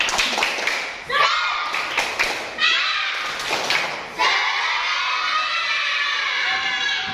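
A group of schoolchildren claps in rhythmic bursts while chanting together, loud and close, with sharp hand-clap patterns separated by short pauses and shouted voices throughout.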